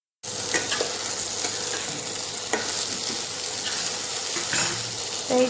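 Cabbage frying in ghee in a pan gives a steady, close sizzle broken by occasional clinks and scrapes of stirring. No one speaks.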